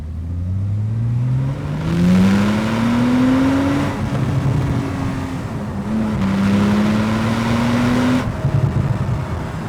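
A Porsche 911 991.1 Turbo's 3.8-litre twin-turbo engine revs up through several gear changes, pitch climbing then dropping between shifts, loud and close with turbo whir over the growl.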